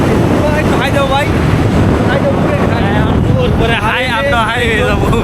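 A motorbike rides along a road near Gazipur with loud, buffeting wind noise roaring over the microphone throughout, while someone talks over it.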